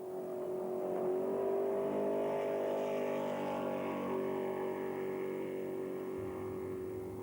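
A C-Class racing jet boat powered by a 5 litre fuel-injected Chev V8 drones steadily at a distance during a jet boat marathon, a sustained engine roar holding a fairly even pitch throughout.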